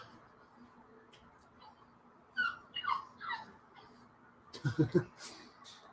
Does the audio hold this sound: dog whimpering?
yes